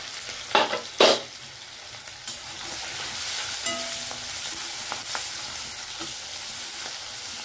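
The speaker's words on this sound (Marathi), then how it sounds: "आता त्याला थोडासा परतून घेतलाय" Onion masala with salt and turmeric sizzles steadily in a hot pan for fish curry. A few sharp stirring knocks come early, then a continuous, even frying hiss carries on close up, with no talking.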